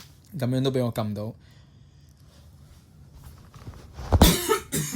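A man coughs twice at close range inside a night taxi, sharp loud bursts near the end after he speaks briefly.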